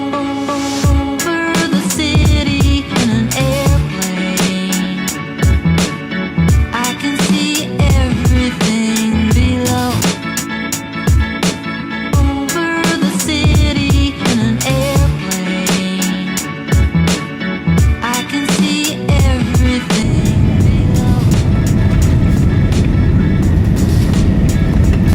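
Steady broad roar of an ANA Boeing 777-300ER cabin before landing, flying from Tokyo Narita, mostly under loud background music and heard alone only in the last few seconds.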